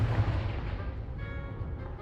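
A fire-spell explosion cast in a Harry Potter video game bursts out as a loud, rumbling blast at the start and rolls into a sustained low roar that fills the whole moment.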